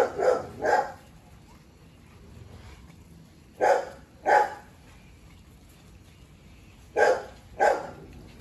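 Young Rottweiler puppies, about fifty days old, bark in three paired bursts spaced a few seconds apart, loud and close, with quiet room noise between the bursts.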